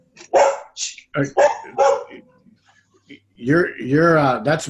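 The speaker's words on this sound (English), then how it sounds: "That's a border collie." A border collie puppy barks in short, bright yaps mixed in among nearby voices, with a few close barks scattered between stretches of talk.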